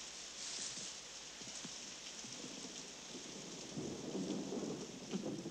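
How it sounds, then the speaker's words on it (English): Steady rain pours outdoors with low rumbles of thunder rolling underneath, building heavier toward the end; no voices. "I hate the rain."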